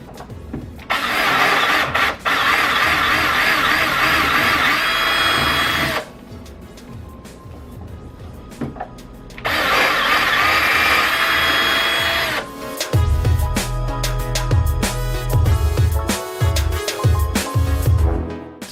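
Cordless drill boring a pilot hole in a wooden speaker case, loud whirring bursts of the motor separated by pauses, with grinding and clunking as the bit bites and stops.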